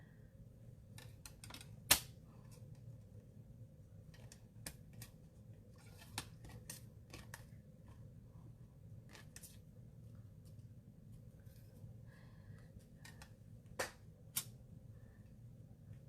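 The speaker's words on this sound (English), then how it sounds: "we'll just trim that section out and use just that" Scissors trim a small piece of card for a shadow box card, giving a few faint, scattered snips and clicks that stand out over a low steady background hum, with no talking.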